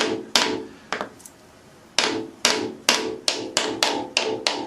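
A Ford 302 rear main seal is tapped into place with about nine sharp, close taps. They start sparse and irregular with a short pause, then quicken into a steady rhythm.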